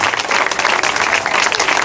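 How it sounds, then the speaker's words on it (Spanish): Dense, loud applause from a crowd at a night campaign event in San Juan de Payara, continuous clapping with no pauses throughout. "Bríndele un aplauso grande al Rey de Reyes y Señor de Señores"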